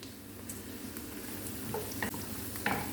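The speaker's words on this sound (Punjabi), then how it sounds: "ਹੁਣ ਗੰਢੇ ਭੁੱਜਦਿਆਂ ਨੂੰ 3-4 ਮਿੰਟ ਹੋ ਗਏ ਆ।" Onions sizzle with turmeric in a pan, a steady close frying crackle with a few stirring scrapes and small pops, no talking.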